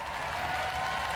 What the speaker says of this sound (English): A round of applause for Steg 2.